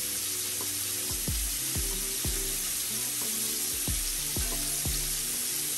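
Seafood frying in a pan for seafood and grits gives a steady broadband sizzle, with repeated low thumps and clinks of pieces being set down and utensil contact throughout, no talking.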